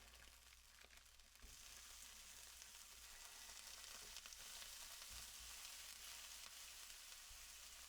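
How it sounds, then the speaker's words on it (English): Steady, dense hiss of food sizzling in a hot pan, continuous throughout with a few soft clinks, no talking. "It's sizzling."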